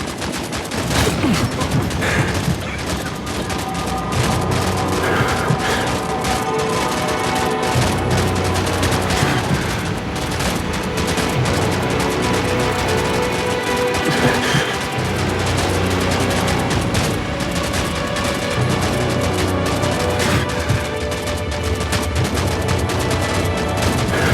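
Continuous loud gunfire in Call of Duty 4, dense automatic bursts and shots layered over explosions and battle noise with no pause throughout.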